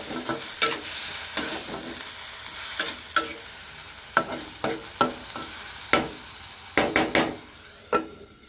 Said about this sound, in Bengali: পেঁয়াজটা আরেকটু কষায় নিই